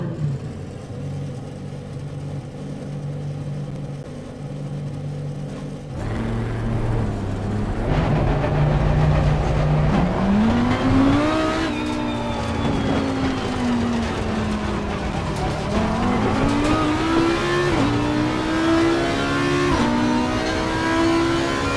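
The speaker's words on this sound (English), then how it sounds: "Gotta love the sound of this Audi, though." An Audi race car engine in Assetto Corsa Competizione starts from a low hum, then revs up loudly in rising sweeps, climbing and dropping through the gears as it accelerates, with no talk over it.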